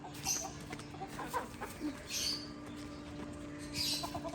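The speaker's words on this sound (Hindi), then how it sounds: "चलो हमने मुर्गी तो छोड़ दी है" Hen clucking in short bursts at a farmyard, with a steady low hum and occasional higher bird chirps in the background.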